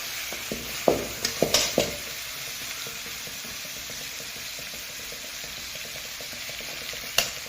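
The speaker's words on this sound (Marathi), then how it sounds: "आता मसाला टाकून हलवून घेतलं" Masala being stirred into vegetables frying in a pan, a steady low sizzle with a few sharp scraping clicks of the spoon near the start and one more near the end, no voices.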